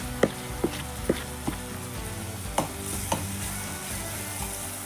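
Turmeric frying with onions in a pan for chicken masala, a steady soft sizzle with several sharp spoon taps and stirring clinks against the pan, close and alone without voices.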